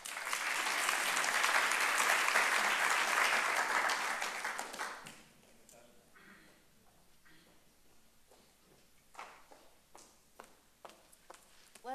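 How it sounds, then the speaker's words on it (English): An audience at a business school conference gives loud, sustained applause that peaks and then fades out after about five seconds, leaving a quiet room with scattered taps and footsteps. "Let's give another very large round of applause for the 21 entrepreneurs who just presented."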